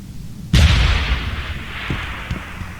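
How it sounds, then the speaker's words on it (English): A loud explosive pack blast from the video game Deus Ex: Human Revolution erupts suddenly after a quiet lead-in, a deep booming burst followed by a long rumbling decay with a couple of faint later thumps. "detonate all packs, toss the little grenades, press and hold the throw button to blow them up"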